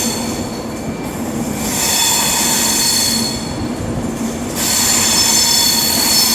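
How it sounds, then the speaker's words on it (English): Avanti West Coast train, class 390, pulling into the platform at Liverpool Lime Street, a loud, steady rumble of wheels with high squealing throughout, close by and with no voices. "now coming in is going to be 391-18 with a terminating Avanti West Coast service from London Euston"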